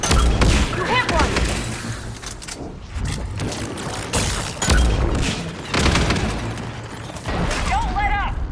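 Gunfire in the Mass Effect 3 video game, repeated heavy shots and bursts with deep booming impacts in several clusters, mixed with in-game voices shouting over the action.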